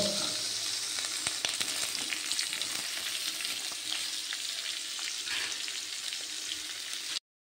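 Pork sizzles and crackles loudly in a hot pan, a steady close frying hiss with occasional stirring scrapes, ending abruptly with no talking.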